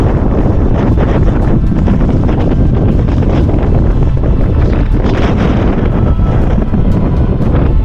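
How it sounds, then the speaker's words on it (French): Strong, steady wind roars and buffets the microphone throughout on a mountain pass on the Tour du Mont Blanc, a constant loud rumble with gusty bursts and no voices. "Il y a beaucoup de vent."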